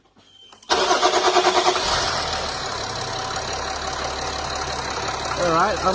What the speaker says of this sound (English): I'm going to start the car and do the same thing